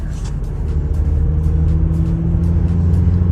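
An Audi A6 TDI diesel engine hums steadily from inside the car, a low constant drone with road rumble and slight shifts in pitch as it drives.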